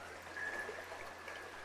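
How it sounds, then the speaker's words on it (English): Fast, shallow stream water flows outdoors with a faint, steady rushing and trickling, an even wash of sound with no voices over it. "the water is just getting faster and faster and faster"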